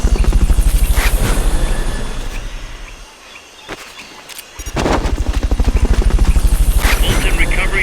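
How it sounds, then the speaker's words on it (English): A helicopter's rotor thumps rhythmically and loudly in the video game Metal Gear Solid: Peace Walker, dips briefly with a few sharp bangs, then returns at full strength. "Subject confirmed onboard helicopter."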